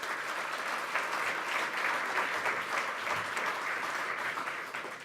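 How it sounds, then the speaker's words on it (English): An audience at a children's charity webcast event claps for a speaker in dense, sustained applause that holds steady for several seconds before tapering slightly at the end. "Can we have another round of applause for Tom Wilson?"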